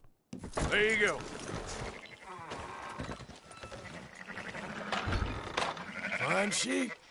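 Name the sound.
sheep bleating in video game Red Dead Redemption 2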